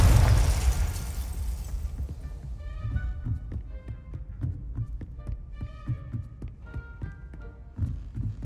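A Confringo fire spell from Hogwarts Legacy blasts in a game courtyard: a loud explosive burst at the start with a long rumbling tail, followed by scattered thumps, chimes and ambient game hum.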